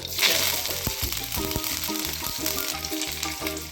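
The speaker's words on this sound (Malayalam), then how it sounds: "കടുക് പൊട്ടി തുടങ്ങിയിട്ടുണ്ട് നമുക്ക് കറി ലീവ്സ്" Mustard seeds popping in hot oil in a pan with curry leaves added, a bright close sizzle and hiss with scattered crackles and a few knocks, no talking.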